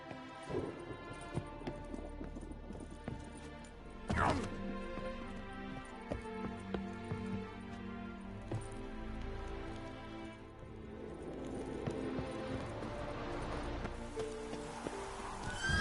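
A horse gallops steadily in The Witcher 3 with continuous clip-clop hoofbeats, overlaid by game music, a rain-like wash and a sharp loud hit midway.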